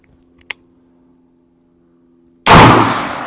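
An unsuppressed rifle gunshot rings out as one sudden, very loud, close crack with a long decaying boom, following a faint metallic click, with no voices.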